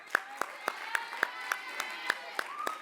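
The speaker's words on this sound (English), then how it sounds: "Clap it up for my man" A small audience at an innovation summit talk claps in a steady, fairly distinct rhythm of individual handclaps, moderately loud and close.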